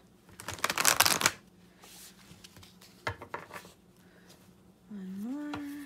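An archetype tarot oracle card deck is shuffled close up in a quick riffling burst, followed by a few softer card shuffles, and a voice begins speaking near the end.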